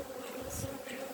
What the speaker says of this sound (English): Oh, and I feel a bee vibrating there.